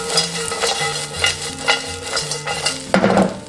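Hairtail fish bones and celery stalks are stir-fried in a wok in hot oil with scallion, ginger, garlic and dried chili, giving a steady sizzle with rhythmic scraping spatula strokes close by.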